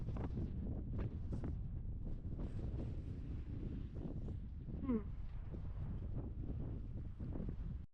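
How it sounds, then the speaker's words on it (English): Strong wind by a lake in Patagonia, Chile, roars and buffets the microphone as a steady, loud rumble with gusty swells that runs without a break through the whole stretch. "Very windy."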